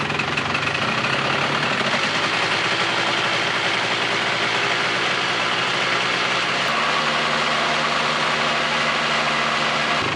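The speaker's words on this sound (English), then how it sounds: "Rev it up." A Polaris 400L ATV engine runs steadily and loudly at close range with a rough, low rumble, then its note drops and settles about two-thirds of the way through.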